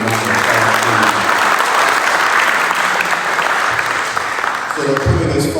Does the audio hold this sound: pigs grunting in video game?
no